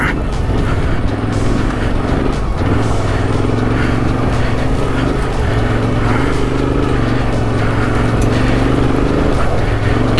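A motorcycle rides on gravel on a backcountry route, its engine droning steadily and loudly close by with crunching, rattling texture from the loose surface throughout.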